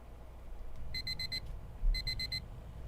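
An alarm clock rings in two bursts of rapid, shrill electronic beeps, each burst a quick run of four tones separated by a pause, clear over a low background hum.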